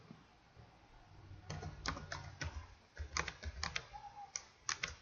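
A password is typed on a computer keyboard while joining a domain during an ESXi 5.5 setup, with quick, close, uneven key clicks in two bursts and a brief pause between them.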